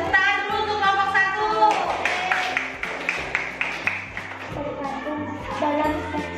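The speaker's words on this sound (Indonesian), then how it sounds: "Tepuk tangan dulu untuk kelompok" Classroom applause for a student group presenting, a dense patter of many hands clapping together with voices and chatter mixed in throughout.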